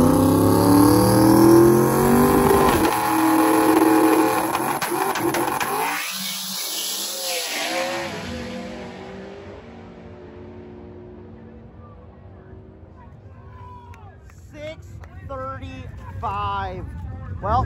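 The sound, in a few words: radial drag race car running the quarter mile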